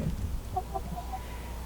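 Baby chickens at a chicken coop give a few soft clucks and peeps. The sounds are brief and fairly faint, set against a low steady outdoor background.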